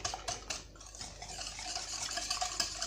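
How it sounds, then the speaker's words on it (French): A spoon stirs a cornstarch dessert mixture for a Turkish-style sweet, making soft, quick scraping and swishing strokes against the bowl, close and fairly quiet, with no one speaking. "Une cuillère de maïzena. Je vais mélanger tout ça."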